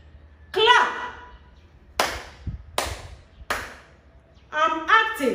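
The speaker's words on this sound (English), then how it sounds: "I'm acting. I'm clapping. So clap is a verb." A few sharp hand claps spaced apart by a teacher during a basic grammar lesson, loud and close, with spoken voice before and after.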